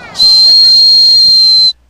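A single steady, shrill whistle tone sounds loudly for about a second and a half, then cuts off abruptly.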